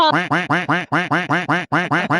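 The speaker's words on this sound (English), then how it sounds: "We bleep everything out. We've got a duck noise for that." A rapid string of about a dozen loud, nasal duck quacks used as a comic bleep sound effect, evenly spaced and repeating without pause.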